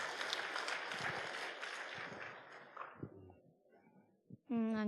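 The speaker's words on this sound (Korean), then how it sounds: "박수로 크게 환영합시다" A congregation at a Sunday church service applauds loudly with dense clapping that gradually thins and fades out. A single voice begins speaking right at the end.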